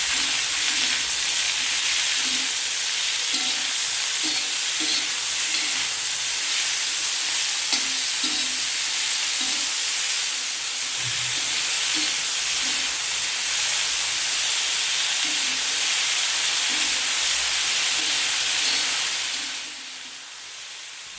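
Tomatoes sizzling loudly on a high flame for a long stretch of steady frying hiss, with intermittent scraping and knocking as they are stirred; the sizzle drops away slightly right at the end.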